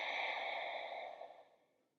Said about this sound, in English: deeper breath out.